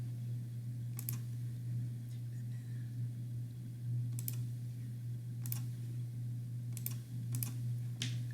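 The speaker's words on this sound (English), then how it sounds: "Sorry, I know my mouse clicks are loud" Scattered sharp clicks, about seven over eight seconds, irregularly spaced, crisp and close over a steady low electrical hum.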